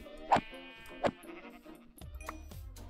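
Two short sheep bleats in quick succession from Minecraft, game-like and fairly clear, followed by softer ambient tones.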